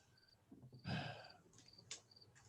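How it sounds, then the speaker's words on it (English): Crickets chirp in steady, faint high pulses throughout, with a brief breathy rustle or sigh partway through and no talking. "Those crickets are still strong."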